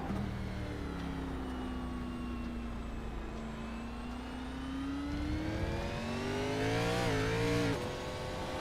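NASCAR race car engine in the iRacing game at COTA, a steady engine drone that climbs in pitch as the car builds speed, then drops briefly at an upshift near the end with no talk over it.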